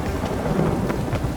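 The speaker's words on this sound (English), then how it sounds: "A storm, damn it." Thunderstorm in The Witcher 3, with steady rain hiss and low rumbling thunder rolling through a short stretch, loud and continuous with no talk.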